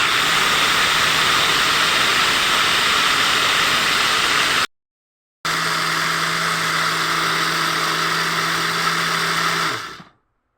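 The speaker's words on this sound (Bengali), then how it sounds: "তালের রস দিয়ে আমি এই চালটাকে ব্লেন্ডার করে নিব।" A blender grinding soaked rice with palm juice, a loud, steady whirring roar that cuts out briefly, restarts with a lower hum, and stops at the end.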